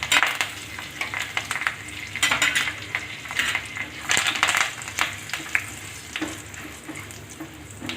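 Cumin, asafoetida, curry leaves and red chili sizzling in hot oil for Rajasthani dal dhokli: a steady crackling fry with spoon stirring and clinks against the pan, close and alone without talk.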